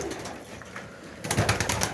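Baku pigeons coo close by against a noisy background, the sound swelling louder in the final stretch.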